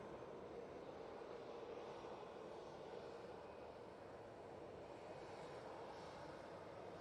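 An Aer Lingus airliner bound for Dublin runs at an airport, giving a faint, distant, steady broadband engine roar with no distinct rise or fall and no voices.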